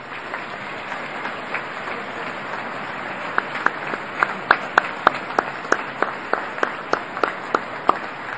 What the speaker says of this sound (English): give them all, the faculty, a great round of applause for everything that they have invested in you